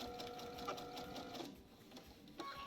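A sewing machine stitches pieces of quilting fabric together at a short stitch length, giving a faint, rapid mechanical whirr with small clicks and brief pauses.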